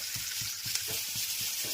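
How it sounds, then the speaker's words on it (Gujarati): Ivy gourd sambharo tempering sizzles steadily in a pan, a continuous close frying hiss with soft rhythmic stirring knocks beneath it and no voices. "સંભારાનો વઘાર થઈ ગયો."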